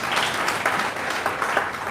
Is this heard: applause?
yes